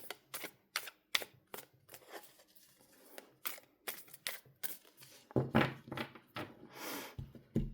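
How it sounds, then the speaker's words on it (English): A deck of tarot cards is shuffled by hand, giving a quick series of close, crisp riffling bursts and taps with short pauses between them and no talking. "I also need to shuffle this one"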